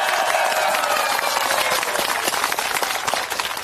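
Loud, dense applause from a large crowd at an outdoor political press event, steady clapping filling the whole stretch with no talking over it.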